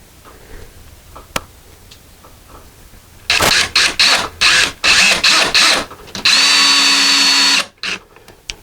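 A power drill drives screws for a deadbolt lock into a door, starting in loud bursts of whirring with short pauses, then one long sustained run, close and alone with no talk.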